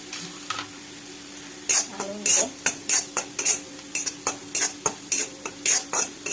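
Turmeric and onion-garlic masala are stirred in a pan, a spoon scraping and knocking against the metal in a quick repeating rhythm over a soft sizzle, with a voice faintly present.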